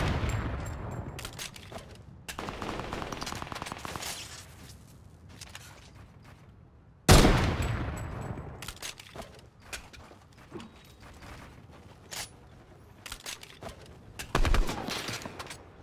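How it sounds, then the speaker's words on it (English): An enemy minigun fires in a co-op video game, heard as long loud sustained bursts of rapid fire. The bursts come in several waves with short gaps between them, and sharp impacts stand out above the shooting. "Oh, they have a minigun."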